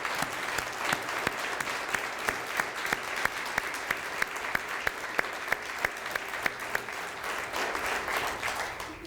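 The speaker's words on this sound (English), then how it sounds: "if you could please just stand, and I'll give you a round of applause for some of the work you've done so far" A large audience gives a round of applause for advisory board members at a judicial branch diversity and inclusion event, a dense continuous patter of clapping with a few sharp nearby claps standing out, fading slightly at the end.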